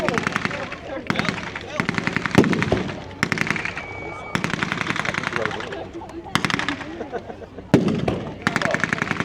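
Rapid bursts of blank gunfire at a 1940s weekend battle reenactment in Lytham, loud machine-gun rattles and scattered rifle shots repeating in clusters, with talk and crowd voices underneath.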